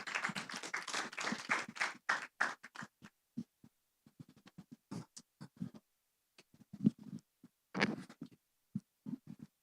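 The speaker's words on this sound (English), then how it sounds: "Ladies and gentlemen, can a round of applause, please, for Mr. Alec Scott and Mr. Chris Galloway." Applause from a small workshop audience starts strong, then thins into scattered claps that trail off irregularly.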